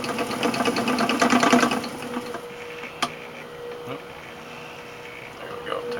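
An old fishing line spooling machine, about 30 years old, winds braided line onto a baitcaster reel with a fast rattling whir that slows and fades, then a sharp click and quieter mechanical ticks. A voice speaks over the machine.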